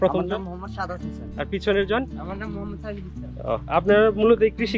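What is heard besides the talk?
No everyday noises stand out.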